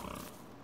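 Pigs in the video game Don't Starve give a short grunting oink, brief and fairly close, with no talk over it.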